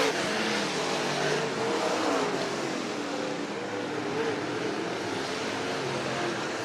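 Race cars lapping a short track in a last-chance race, a loud continuous roar of engines with rising and falling revs and a rushing pass-by quality, with faint commentary mixed underneath.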